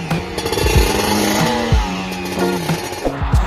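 A small two-stroke engine runs loud and buzzy with a rapid, rattling putter, revving slightly up and down throughout.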